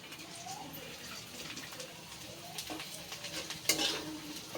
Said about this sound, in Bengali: ডালটা দিয়ে পেঁয়াজের সাথে একটু নেড়ে নেব